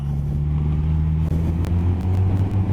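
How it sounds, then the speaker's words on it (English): A Suzuki GSX-S1000F motorcycle on its standard exhaust holds a loud, steady, deep idle rumble close by, with no talk over it. "The exhaust note on this is lovely. It's one of the best standard sounding exhaust pipes that I've ever heard."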